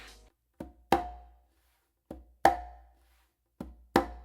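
Conga strokes in a bomba variation on two or three drums, a few sharp slaps and open tones in spaced pairs with quiet gaps, close and solo.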